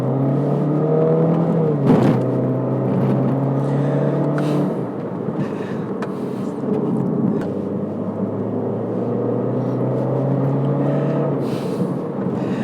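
A Mini Cooper accelerates through a left turn on a road, engine note rising and revving loud and close with whirring drivetrain, easing briefly before pulling again.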